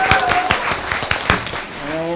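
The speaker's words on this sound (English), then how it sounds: "Give yourself a round of applause." Scattered hand claps from an audience at a Purim Shpiel, a short, loose burst of individual claps heard up close with some tonal background sound.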